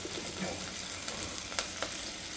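Curry leaves and tomatoes frying in a pan for a Kumbakonam kadappa, a soft continuous sizzle with a few sharp clicks of stirring, close and fairly quiet.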